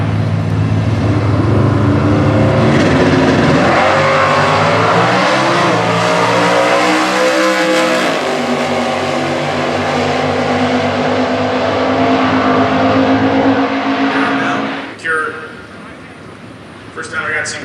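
Stock class drag race cars, a 2015 and a 2014 model running in F class at Indy, engines roaring loud with rising and falling revs, then cutting off near the end, with an announcer talking over them.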